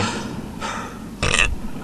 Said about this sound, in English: Sorry about that burp.